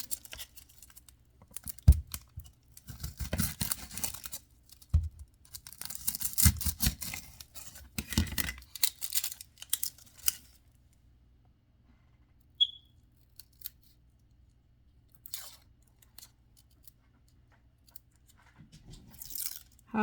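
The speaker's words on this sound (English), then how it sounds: "And cut this onion." A knife cuts an onion for fish chowder in a home kitchen, with crunchy slicing strokes in irregular bursts close by, then sparser taps and long quiet gaps.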